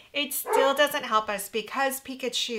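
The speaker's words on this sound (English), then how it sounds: "I apologize for the dog barking right now." A dog barks and yips in short bursts in the background while a person keeps talking over it.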